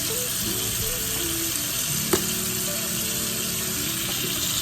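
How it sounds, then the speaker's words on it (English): Vegetables being washed with water and baking soda: a steady, loud rush of running tap water with faint clinks and one sharp knock midway, continuous throughout, no voices. "Using baking soda to clean my vegetables really well."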